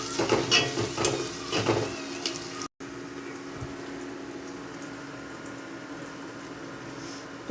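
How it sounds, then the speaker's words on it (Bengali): Chopped onions fry in a pan until brown for handi mutton curry, a soft, steady sizzle with some stirring clatter early on, faint and without voices. "পেঁয়াজটা ব্রাউন হওয়া অবধি ভেজে নেব।"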